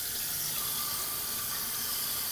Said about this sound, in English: I rinse them off